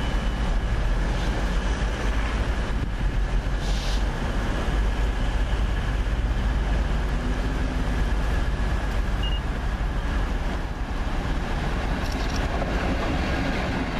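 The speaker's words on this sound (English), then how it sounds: "66043 on a coal train." A Class 66 diesel locomotive hauls a coal train through Beeston station, making a loud, steady, continuous rumble of engine and rolling wagons close by throughout, with faint rail clatter and no talk.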